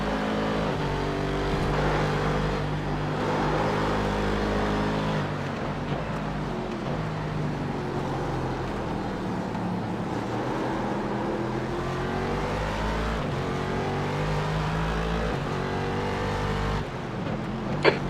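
Race car engines in the iRacing game at the Daytona 24-hour race drone loudly and continuously, with pitch shifting as cars accelerate and pass, and no talk over them.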